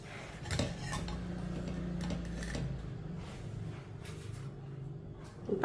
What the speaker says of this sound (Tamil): இப்போ கரண்டியை வச்சு திருப்பி போட்டுக்கிறோம்ப்பா.